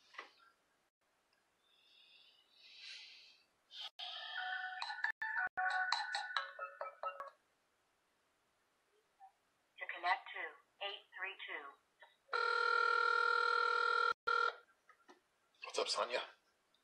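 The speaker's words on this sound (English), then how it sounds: "Let's get him on the phone." A telephone call dials out and rings with repeated electronic tone bursts, separated by gaps and short stretches of talk, ending in a long steady ring tone.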